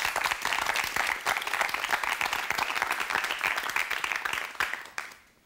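A TV studio audience applauds on a KBS broadcast, producing dense, steady clapping that holds for about five seconds before quickly fading out.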